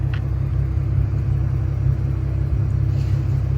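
An Infiniti G37 car driving alongside, giving a steady loud low engine and road rumble that holds without change for a few seconds.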